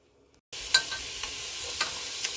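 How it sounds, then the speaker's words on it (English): Chopped white onion and sausage sauteing in a pan: after a brief quiet start, a steady close sizzle bursts in, with a few light stirring clicks and no speech. "So I'm using my white onion that's chopped up, and this is going to saute all together."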